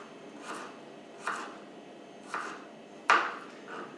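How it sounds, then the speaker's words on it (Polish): A knife slices peeled garlic cloves into rings on a board, four or five soft, separate taps spaced about a second apart, quiet and close, the fourth cut a little sharper. "Teraz będziemy kroić czosnek obieramy i kroimy w krążki w ten sposób."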